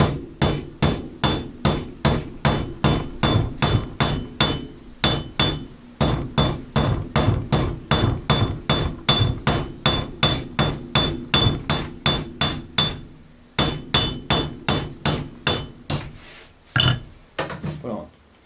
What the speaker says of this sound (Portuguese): Então esse excesso aqui você vai bater com o martelo.